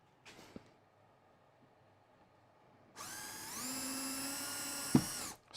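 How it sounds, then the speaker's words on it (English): A power drill bores 3 mm holes, falling silent after a short knock and then starting up close with a sharp high whine that holds steady for about two and a half seconds before stopping abruptly. "Drill some holes."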